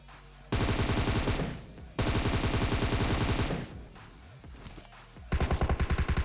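Automatic gunfire from a battle royale video game as a player pre-fires while entering a building: two long, loud, rapid bursts, a quieter gap, then another burst starting.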